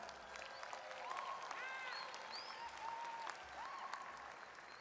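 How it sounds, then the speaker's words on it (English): Faint, steady crowd applause for parents at the 2013 NJIT commencement ceremony, distant clapping from a large hall with a few whistles and cheers rising over it. "Applause to the parents"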